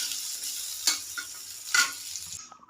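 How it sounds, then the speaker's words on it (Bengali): Onions frying in hot oil in a home kitchen pan, a steady bright sizzle with two louder bursts as they are stirred, close and clear, no voices. "তো এরপরে দিয়ে দিলাম পেঁয়াজ, এগুলো দিয়ে ভালো করে নাড়াচাড়া করে নেব"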